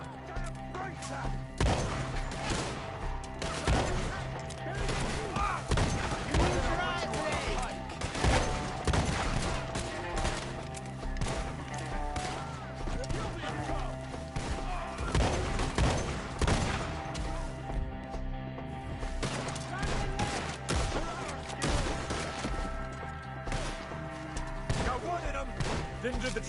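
Sustained bursts of gunfire aimed at enemies perched in trees during a PS4 shooter firefight, loud and dense with repeated volleys and crashing impacts, layered over a steady music or ambience bed with voices mixed in.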